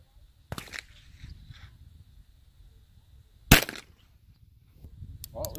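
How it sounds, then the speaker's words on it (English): Gunshots fired at a target on an outdoor shooting range, two sharp loud cracks a few seconds apart with short echoing tails, with faint talk between them. "Every shot you fired is right within a foot of each other."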